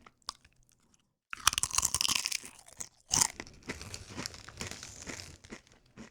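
Mayonnaise-flavored Doritos being eaten up close, with loud crinkling of the chip bag and crisp, crunchy chewing in bursts that start after a short quiet pause and continue steadily.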